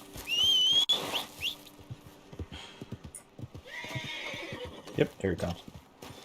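A horse in the Red Dead video game whinnies in a rising whistle-like call, then clip-clops nearby, with someone talking over and between the sounds.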